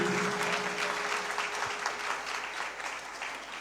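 Sustained applause from a congregation at a thanksgiving Mass in a church fills the whole stretch, a dense, even patter of many hands clapping.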